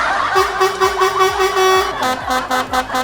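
A ship horn in the World of Warships video game: a loud, steady horn blares, then sounds again in several short repeated blasts, over low rumbling noise.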